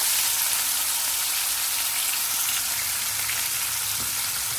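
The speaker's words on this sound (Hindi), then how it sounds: "अब हम इसमें फ़िश को फ्राई कर लेंगे।" Fish sizzling loudly in hot oil in a pan while frying for a Sindhi onion fish curry, a dense, steady crackling hiss that stays close and constant throughout, with no talking.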